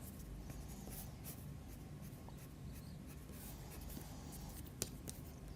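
A Derwent Academy soft pastel pencil shades broad areas on paper, a soft steady scratchy rub close to the listener with faint light taps, low in level and unbroken.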